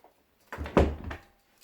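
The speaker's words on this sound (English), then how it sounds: "Close my prison cell door." A prison cell door swings shut with a single close thud and a short rattling follow-through, near and fairly loud, with no talking.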